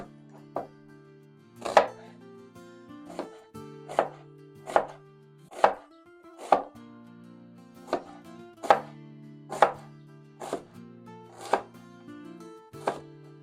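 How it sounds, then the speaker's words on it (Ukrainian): A knife chopping onion on a board, about a dozen sharp, close knocks at an uneven, unhurried pace with short pauses between strokes, alone without talk. "нарізаємо цибулю"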